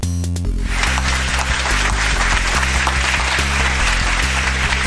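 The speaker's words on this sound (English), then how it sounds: "Everyone, clap for Luke" A game-show audience claps for a contestant reaching the final bonus round, steady loud applause filling the clip over a strong rhythmic music bed with a repeating bass pattern.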